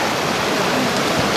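Steady rushing water, broadband and constant, like a river flowing close by on Mount Rainier, with no other sounds.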